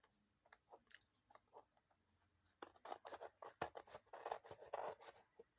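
Scissors trimming the edges of a composition journal, a series of quiet snipping and crisp cutting sounds, sparse at first then quicker and louder in a close, busy run.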